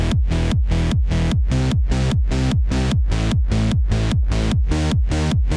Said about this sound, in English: And kick and bass together sound like this.